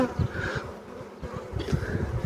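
Honey bees buzz over a brood frame during an early spring hive inspection, a close, wavering hum that rises and falls in pulses without any voices.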